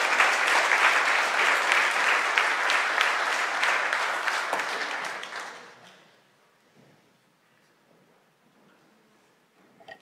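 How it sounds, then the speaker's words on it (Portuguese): A congregation at Sunday Mass applauds for Ricardo, full, steady clapping for about five seconds that fades out into near silence with a faint room murmur. "uma grande salva de palmas para ele também"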